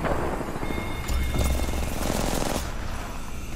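Dense automatic gunfire in Apex Legends, a battle royale shooter, rattles in continuous bursts over a steady game background, with one louder volley in the middle.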